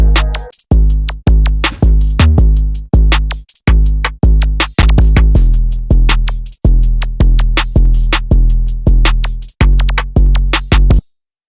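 A loud, punchy drum beat with heavy kicks and sharp snaps, playing alone with no melody, in short repeated bursts separated by tiny gaps.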